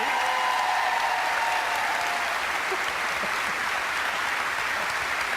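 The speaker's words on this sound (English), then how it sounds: "So are you up for a good bit of applause? Let's just test the loudest you can be." Loud, sustained applause from a live audience at a ghost-hunting show event in the East End, a dense wall of clapping that holds steady at full strength throughout, with no voices over it.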